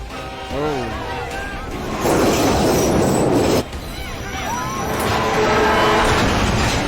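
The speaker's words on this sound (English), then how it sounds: "a passenger train coming in your direction is over speed" A train rushes past with loud roaring wheel noise and metallic squeals, while voices talk over it.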